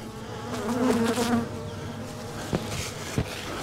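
Close, loud, steady buzzing of many honeybees fills the air while a nuc is moved into a hive, with a swell in intensity and a couple of brief knocks against the equipment.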